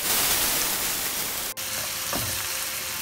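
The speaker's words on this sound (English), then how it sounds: "Now we will add chopped onion" Chopped onion frying in hot oil with cumin seeds, cinnamon stick, green cardamom and cloves makes a loud, steady hissing sizzle up close, briefly broken by a short dip, then a soft stir.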